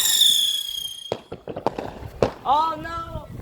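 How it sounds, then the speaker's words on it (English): Fireworks going off nearby: a shrill whistling launch, then a series of sharp cracks and pops, with excited voices reacting over the bursts. "We're going to be doing the next firework."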